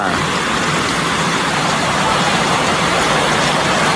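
Heavy rain pours down steadily at a rural home, a loud, dense, unbroken hiss that keeps up for the full stretch with no voices.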